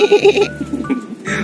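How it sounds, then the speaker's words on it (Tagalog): A small young goat bleats several times in quick succession, close and loud, then gives a shorter bleat after a pause, with no talking. "Ang kaibigan kong kambing."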